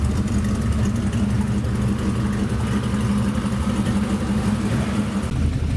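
Engine of a rusty 1960 Chevrolet Biscayne running with a steady, low, even rumble, close and loud throughout with no talking.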